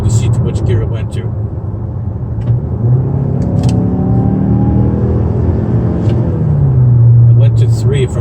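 A 2019 Mazda CX-5 with the 2.5L turbo engine accelerates hard, heard from inside the cabin as a deep rumbling engine note climbing steadily in pitch and loudness, with brief talk over it.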